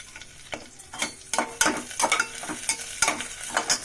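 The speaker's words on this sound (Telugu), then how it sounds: "ఇప్పుడు తరిగి పెట్టుకున్న పచ్చిమిరపకాయలు ఇప్పుడు" Chopped green chillies sizzle in hot oil for khichdi, with a steady frying crackle and repeated scraping stirs of a spoon against the pan, close and unvoiced.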